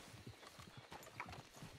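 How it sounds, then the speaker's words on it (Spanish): Horses in the RedM western game clip-clop in a steady, uneven patter of hoofbeats, soft and distant, carrying on through the whole stretch with a faint whinny-like rustle around them. "Sí, estoy escuchando caballos allá al fondo, ¿no?"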